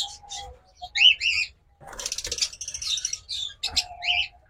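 Lovebirds and cockatiels at a pet bird shop chirp and tweet in close, bright bursts, with a brief flutter of wings and short pauses between calls.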